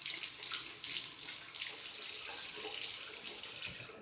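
Water runs from a faucet in a bathroom sink in short splashing bursts and then a steady stream, wetting a makeup sponge, close and fairly faint.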